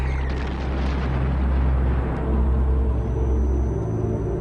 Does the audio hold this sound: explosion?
yes